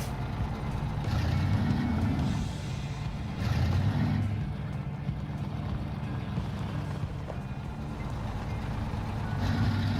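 Truck in the video game SnowRunner, driven in Michigan's Black River area, reversing with its engine rumbling low and steady and a repeating backup beep over it, close and continuous throughout.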